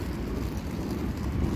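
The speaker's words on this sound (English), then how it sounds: "I could hear a lot of planes in the background." Airplanes around Atlanta's ATL airport heard from outside, a steady low engine drone rumbling continuously in the background with no talk over it.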